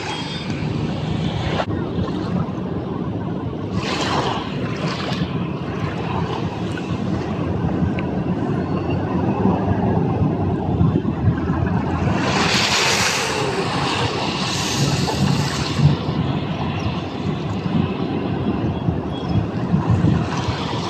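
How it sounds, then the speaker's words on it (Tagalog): Strong ocean waves crash and churn along the shore at Manila Bay, a loud, continuous roar with wind buffeting the microphone. "Yung tawag diyan, hampas ng alon"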